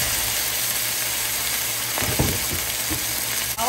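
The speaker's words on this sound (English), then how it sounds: "Sear these steaks." Two steaks sear in butter in a hot pan with a steady, close, crackling sizzle throughout, joined by a few brief clatters midway and near the end.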